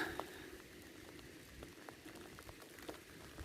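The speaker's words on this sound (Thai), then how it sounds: "ฝนตกใส่" Rain falls faintly and steadily, a soft patter with scattered small drops ticking on surfaces, quiet and continuous with no voices.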